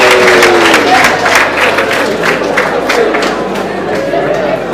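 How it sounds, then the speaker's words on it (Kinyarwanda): Wedding guests clapping and cheering in a lively crowd, continuous dense applause mixed with chatter and voices, loud and close throughout. "amashyi menshi cyane batahira abatunejeje"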